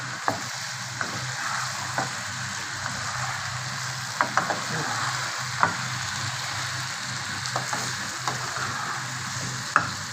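Shrimp fry with tomato and onion in a hot pan, a steady, even sizzle broken by occasional sharp clicks and scrapes of stirring.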